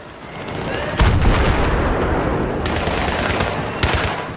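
In a video game, the G53 engineer gun fires dense, loud bursts of automatic gunfire mixed with heavy booms of battlefield explosions, continuous and close throughout.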